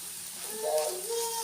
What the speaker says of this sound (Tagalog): Prito tayo ng tuyo.